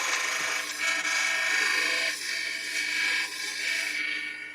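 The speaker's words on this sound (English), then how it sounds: "So you can hear that bevel rubbing" A woodturning gouge's bevel rubs against a spinning wood spindle on a lathe, giving a steady broadband hiss and scrape that swells and eases in several passes, close and fairly loud with no talk.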